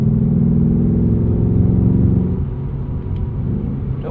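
A 2024 Ford Mustang GT with its 10-speed in manual mode and exhaust set to track mode roars loudly and steadily under acceleration, its deep rumble dipping slightly partway through.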